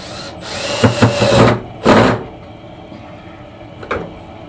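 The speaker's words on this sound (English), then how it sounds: "I'm going to put all these pocket screws in" A power drill drives pocket screws into wood in a chilly home shop. There are two loud whirring bursts about a second long, separated by a brief pause, then a short faint buzz.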